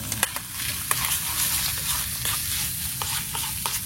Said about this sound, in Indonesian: Om Beri lagi masak nasi goreng